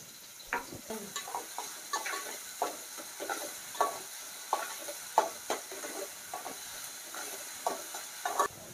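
Chopped onion cooks with salt in a pan for a drumstick bhaji, giving a soft sizzle and steady, regular spatula stirs and taps close by. No one speaks.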